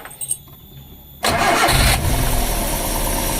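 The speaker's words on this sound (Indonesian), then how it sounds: "Kita coba nyalain lagi ya mesinnya, kita pastikan bunyinya" A Daihatsu Grand Max with a rough-running engine cranks briefly in neutral and catches, surging abruptly into a loud idle that settles into a steady, slightly uneven rumble, heard close with no talking.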